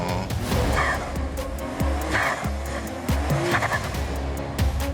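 A 4x4 race car slides on a slippery track, its engine roaring steadily with loud tire squeals and skidding bursts, close and continuous throughout.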